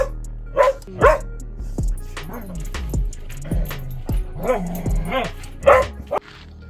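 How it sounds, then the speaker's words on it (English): A dog barks in a string of sharp, close woofs mixed with yips and whimpers at an outdoor campsite, the barks coming in uneven bursts. "world's best helper and smartest dog"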